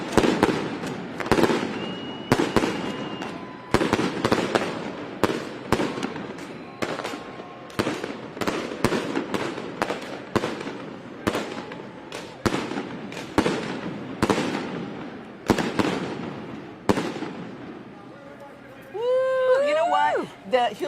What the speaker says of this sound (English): The Hewlett-Packard fireworks barge thing here goes off through the whole 12-mile route.